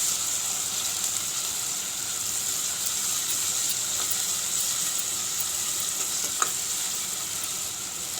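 Chicken curry (chicken pulusu) cooking in a pan, a loud continuous frying hiss held steady throughout, with faint scrapes of stirring and one sharp clink near the end, no talk.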